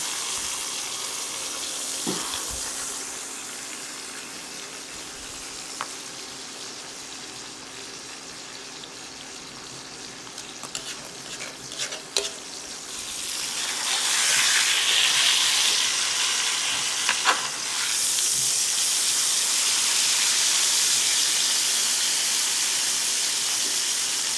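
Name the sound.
steak searing in a pan, fat edge cooking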